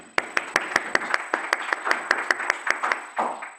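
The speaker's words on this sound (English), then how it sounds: "So a little round of applause for Lynette, please." A single person claps in a steady, even rhythm, about fifteen crisp claps close by, with a faint murmur underneath.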